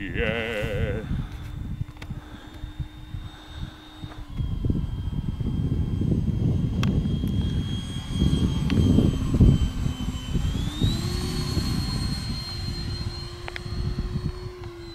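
An FMS Super Scorpion 70mm RC EDF jet plane flies overhead with a steady whining ducted-fan roar that shifts in pitch as it passes, loud and continuous for the whole stretch.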